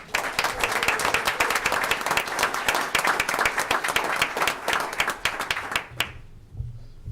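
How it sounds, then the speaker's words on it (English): Applause from the audience at a township board meeting: thick, continuous clapping for about six seconds that stops suddenly, leaving quiet room tone. "Let's give Frank a round of applause."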